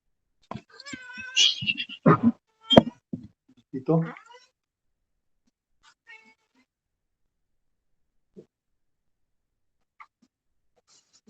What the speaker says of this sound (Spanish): El gatito se despertó.